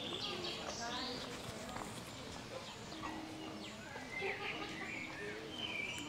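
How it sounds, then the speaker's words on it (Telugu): Birds chirp and coo around Giethoorn village in the Netherlands, faint calls scattered over a soft outdoor background, with someone talking over them. "అది చూడండి ఇంత బాగా సప్పుడు వినిపిస్తున్నాయి పక్షులు."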